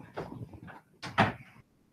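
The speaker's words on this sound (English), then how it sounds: "Close the door." A door is pushed shut indoors, giving a couple of soft shuffles followed by a sharper knock as it closes, then quiet.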